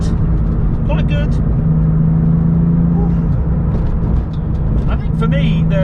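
A Porsche 911 996 GT2 Clubsport drives on a busy road, its engine a loud, steady low drone from inside the cabin, with someone talking over it.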